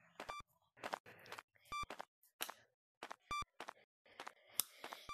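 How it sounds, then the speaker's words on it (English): In the video game Capuchin, short electronic beeps and clicks sound in irregular bursts separated by silence, crisp and close with brief tonal chirps scattered throughout. "Now, it's just like the good old days, the old beeping sound."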